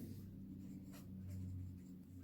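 A pen or pencil draws a single 5 cm straight line on paper during a triangle construction for a geometry lesson, giving a brief, soft scratching stroke heard up close over a steady low background hum.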